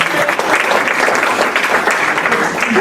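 Steady, fairly loud audience applause at a closing discussion of a conference, a dense wash of many hands clapping continuously without pause.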